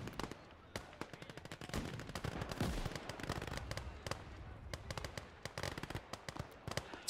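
Grenade and gunfire explosions crack and thud in a Call to Arms - Gates of Hell battle on the Eastern Front, a dense, loud, rapid barrage of sharp blasts with a deeper boom mid-way.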